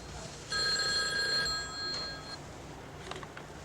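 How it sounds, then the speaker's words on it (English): A telephone bell rings once in a bright, trilling burst lasting about two seconds, then stops, leaving quiet room tone and a few faint knocks. "Oh, wait, there's the phone."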